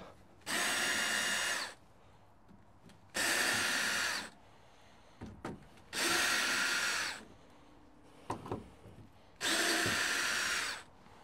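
An impact-style power tool loosening large, rusty bolts on a Peterbilt 389 truck with a C15 Cat engine, sounding in four loud, steady bursts of about a second and a half each, with quiet gaps and faint clanks between them.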